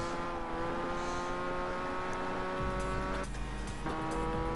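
Race cars in Gran Turismo 5 during the Grand Valley 300 km endurance race, an RX-7 among them, produce a sustained droning engine whine with shifting pitch and a brief tire squeal. No one talks.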